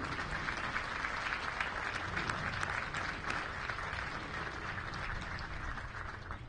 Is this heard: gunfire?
no